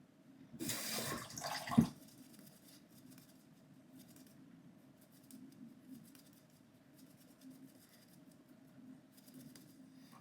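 A razor gets a brief rinse under a running tap, a short burst of splashing water near the start, followed by quiet room tone with faint rustles.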